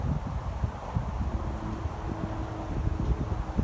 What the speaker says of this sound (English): It's windy. It's always windy over here.